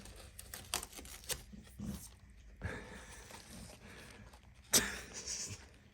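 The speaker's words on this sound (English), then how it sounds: "that was just my dog licking herself and making quite a racket in the background." Wet, close licking and slurping from a dog, irregular bursts with rustling and a faint pant, fairly quiet.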